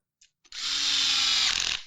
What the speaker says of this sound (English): So we finished with your electric drill?